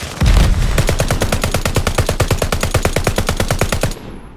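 Rapid automatic gunfire in a shooter video game, a long fast burst of evenly spaced shots lasting nearly four seconds, loud and close with no voices.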